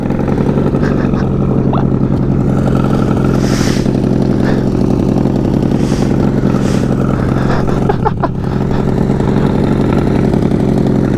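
A motorcycle engine runs steadily and loudly in cold weather, holding a dense, even drone at a constant pitch throughout, with no clear speech over it.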